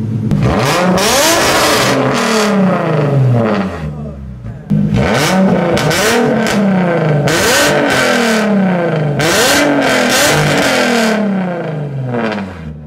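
A Nissan 350Z with a loud Tomei exhaust revs hard in repeated bursts, the engine climbing and falling close by, with a short drop-off in the middle and crackling pops on the overrun.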